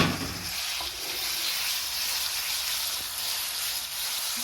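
Steady, loud hiss and crackle of lamb meat searing over high heat in a hot pan for Turkish saç kavurma, continuous and close, with no voices.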